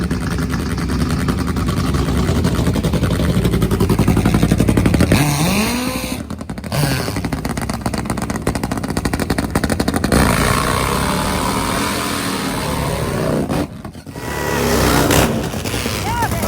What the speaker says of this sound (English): Two awesome motorcycles, both running on nitromethane.